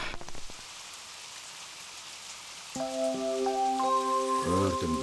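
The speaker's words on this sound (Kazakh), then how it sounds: "Жаңбыр гүлге ұнайды." Steady cartoon rain patters on surfaces for a few seconds before bright musical tones join in over the falling drops.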